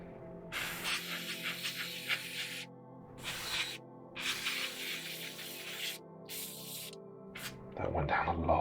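An airbrush sprays undercoat onto a 1/48 scale Tamiya Spitfire Mk.1 plastic model in several hissing bursts, each a second or two long and separated by short pauses, close and fairly loud.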